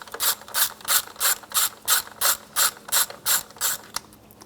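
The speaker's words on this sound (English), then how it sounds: "Use a 8mm socket." Ratchet with an 8mm socket clicks steadily in about eleven even bursts while backing out a bolt on a 2007-2013 Mini Cooper valve cover, close and clear with no talk.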